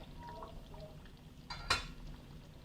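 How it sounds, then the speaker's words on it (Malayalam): A lid is set on a pot of king fish curry cooked with coconut milk, giving one brief, faint metallic clink against a quiet kitchen background. "ഇനി നമുക്കൊന്ന് അടച്ചു വെക്കാം"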